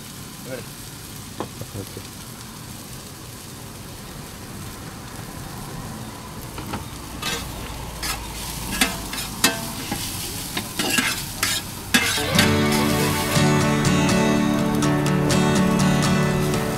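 Masala frying in a pan at a small roadside fast-food stall, stirred with sharp metallic scrapes and clanks over a building sizzle that grows louder and steadier toward the end.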